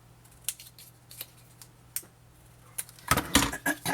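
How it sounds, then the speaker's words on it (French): Scissors snip through paper strips for a scrapbook wedding album, a few faint, spaced cuts followed by a louder cluster of crisp snips and paper rustles near the end. "je vais couper la longueur qui est ici."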